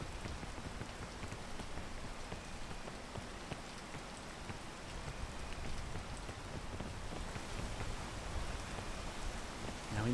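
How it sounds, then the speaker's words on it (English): Steady, dense patter of rain falling in a video game, a soft continuous hiss of drops on surfaces that holds even throughout, with no voices over it. "We gotta wait for the rain to stop, otherwise it gets harder for us to climb."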